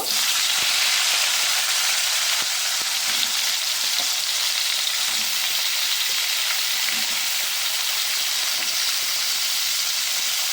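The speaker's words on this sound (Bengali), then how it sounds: "একই তেলে আমি পটলটা ভেজে নেব" Pointed gourd (potol) frying in oil left from frying potatoes for a prawn dish, a steady loud broadband sizzle and hiss filling the whole stretch, with faint scrapes of stirring and no talk.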